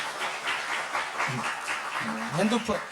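A church congregation breaks into applause, a soft, fairly distant patter of clapping beneath murmuring voices and a little laughter.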